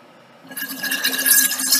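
Steam bike's rear suspension letting out air and draining into a long-neck bottle: a close, steady hiss that starts abruptly and grows louder and rougher, with a faint tonal whine running through it.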